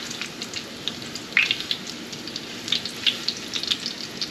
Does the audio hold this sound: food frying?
yes